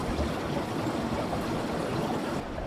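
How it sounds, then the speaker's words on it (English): Water flowing beneath the rocks underfoot on an alpine hike to Lake Solitude, a soft, steady rushing trickle heard up close and without pause, with no one speaking. "you can hear the flow of water underneath all the rocks we're standing on now"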